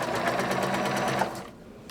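Sewing machine stitching a zipper pocket, running steadily in a fast, even rhythmic chatter for over a second before slowing and stopping, close and fairly loud.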